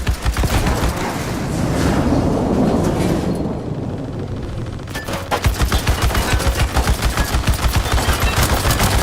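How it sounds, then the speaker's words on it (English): Powerful guns in the video game Unknown 9: Awakening fire in dense, relentless bursts, a loud rapid stream of shots that briefly thins out into a rumbling wash before the steady hammering resumes. "These guns are so powerful!"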